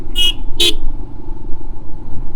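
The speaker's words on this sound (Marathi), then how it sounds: "याला ओव्हरटेक हॉर्न दे" Two short, bright car horn toots in quick succession to overtake, close by, over a steady rumble of road and engine noise on a Konkan coastal road.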